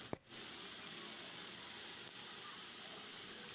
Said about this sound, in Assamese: মই এতিয়া আলুখিনি ফ্ৰাই কৰি ল'ম।